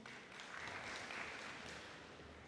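An audience applauds at a Model UN opening ceremony, a soft, steady wash of clapping from many hands, faint and distant in a large hall.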